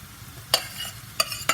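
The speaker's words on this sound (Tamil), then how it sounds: "மீல் மேக்கரை வந்து இந்த மசாலா எல்லாம் நல்லா படுற மாதிரி நல்லா நம்ம வந்து கலக்கி எடுத்துக்கணும்" A spoon mixes marinated soya chunks into sizzling masala in a pan, with three sharp scraping clacks against the metal over a soft, steady frying hiss.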